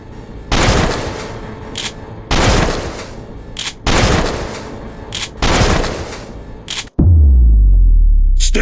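Bursts of rapid automatic gunfire in The Skin Stapler game, four loud sustained volleys separated by short pauses with a few single shots in between, then a deep booming rumble at the end.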